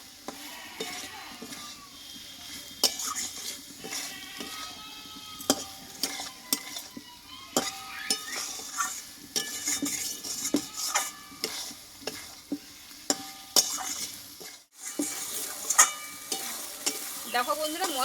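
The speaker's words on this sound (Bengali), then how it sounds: "মশলার সঙ্গে ভালোভাবে একটু নাড়াচাড়া করে কষিয়ে নেবো পটলটা" Pointed gourd (potol) fried with spices for a vegetarian peanut dish: a spatula scrapes and knocks steadily around the pan over a continuous close sizzle, with a brief pause before the stirring resumes.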